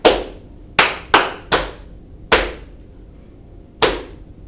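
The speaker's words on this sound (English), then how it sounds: "this allows the children to play body percussion and make it different every time" Six sharp hand claps in an uneven body-percussion rhythm, loud and close in a quiet room, each with a short echoing decay and no speech.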